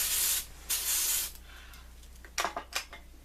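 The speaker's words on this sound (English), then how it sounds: "I'm going to spray that with some demurrt to get it dry quicker" A quick-dry spray is misted onto freshly painted nails in two short bursts of hissing aerosol, followed by a couple of brief, softer puffs, close and alone with no talking.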